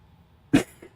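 A person coughs twice, short sharp bursts separated by a brief pause, close to the microphone in an otherwise quiet room.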